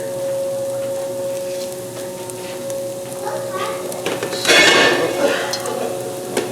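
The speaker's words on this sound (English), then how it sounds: "Everything cabbage, and we'll start adding it to the pot." Cabbage goes into a pot with bacon grease, giving a soft sizzle and stirring scrapes that swell into a louder frying burst midway, with a steady background hum throughout.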